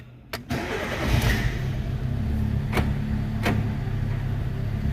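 A Fiat Palio Fire 1.3 16-valve engine, with a slightly unsteady idle, cranks and fires after a couple of sharp clicks, then settles into a steady, close-up idle hum, with a few more clicks along the way.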